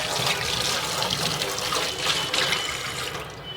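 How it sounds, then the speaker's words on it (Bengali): Tap water runs steadily into a sink while hands are washed during egg cooking in a home kitchen, a loud, continuous broadband splash and hiss close by with small shifts in flow, and no talking. "আরে 2 হাত যদি হয় ময়লা তো আগে ধুয়ে নিতে হবে।"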